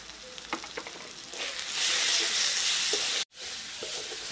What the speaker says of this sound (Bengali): সব কিছু মশলা ভালো করে কষিয়ে নেব